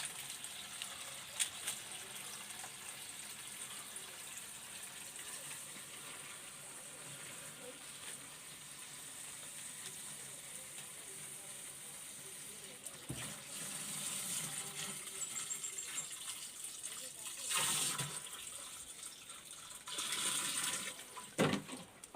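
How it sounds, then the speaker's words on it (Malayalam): Water being poured into a plastic canister beside a banana plant, a steady faint gushing trickle that swells into louder splashing bursts near the end. "ഈ വെള്ളം നമ്മളിങ്ങനെ ഒഴിച്ചു കൊടുക്കുകയാണ്."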